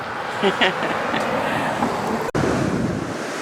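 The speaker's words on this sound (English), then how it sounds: "So here we are in Del Mar, looking at the beach." Pacific Ocean surf washing onto the short beach at Del Mar, a steady wash of waves mixed with wind buffeting the microphone, with brief voices and one sharp click partway through.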